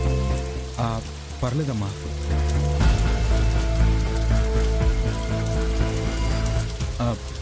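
Steady rain pours during a Telugu TV serial scene, a continuous hiss running under a woman's brief line of dialogue and a swelling background music score.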